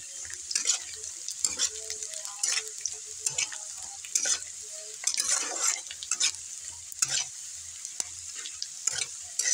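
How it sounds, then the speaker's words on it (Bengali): Sliced onion and potato fry in an oiled pan under a steady sizzle, broken by repeated scraping stirs of a spoon against the metal at an uneven rhythm, close and clear with no speech. "পেঁয়াজটা আমার ভাজা হয়ে গেছে, পেঁয়াজ আলুটা ভাজা হয়ে গেছে।"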